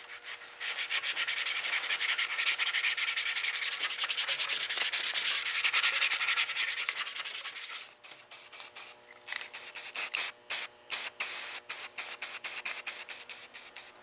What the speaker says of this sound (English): I'm just going to take sandpaper to this, some high-fill primer, and this should be smooth with just a few hours of sanding.